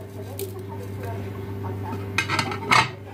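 A whisk stirs coriander, cumin, salt, paprika, saffron and other spices into a shrimp marinade in a bowl, giving a few quick metallic clinks and scrapes near the end over a faint background hum.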